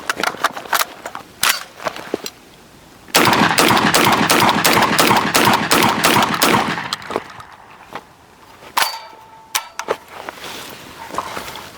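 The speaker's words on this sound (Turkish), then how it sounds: "atışa geçiyorum ben o zaman" A Capra KM12 shotgun fires Sterling and MAF ammunition in loud, sharp blasts, first as separate shots and then as a rapid run of repeated shots, with short pauses between bursts and a few more shots near the end.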